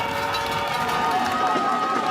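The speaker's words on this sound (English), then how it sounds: "Listen for the crowd." Crowd noise at the St. Moritz bobsleigh track during a two-man World Cup heat, a steady wash of cheering from a distance under continuous talk.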